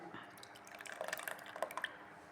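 Thick curd poured into a dish, heard as faint, soft wet plops and drips clustered in the middle, quiet and close with no talk.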